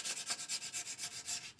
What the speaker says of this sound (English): So I'm just sanding